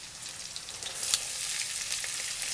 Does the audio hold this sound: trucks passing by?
no